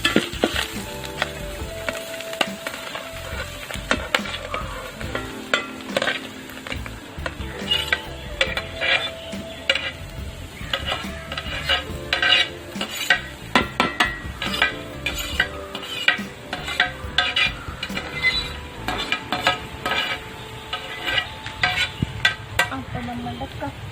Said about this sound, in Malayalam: ഇത് നന്നായിട്ട് ഇളക്കി മസാലയൊക്കെ നന്നായിട്ടൊന്ന് മിക്സ് ചെയ്തെടുക്കാം.